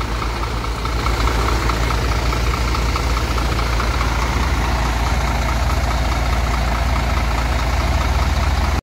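A large Sempati Star bus engine idles steadily and evenly, a constant low rumble with no pauses.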